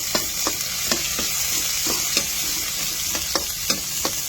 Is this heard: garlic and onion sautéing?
yes